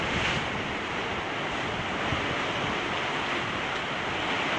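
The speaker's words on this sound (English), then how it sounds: "You can see some of the waves. We've got some nasty stuff going on here." Storm waves crash against the shore of an island coast as a steady, loud, roaring wash of surf mixed with wind noise, unbroken for the whole span, with no one talking.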